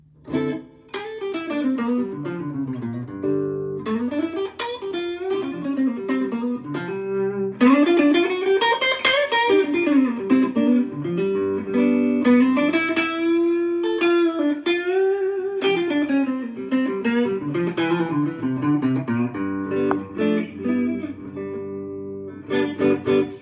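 Electric guitar, a Les Paul played through its neck humbucker pickup with distortion, sustained chords and melodic runs ringing out loudly and continuously without any talking.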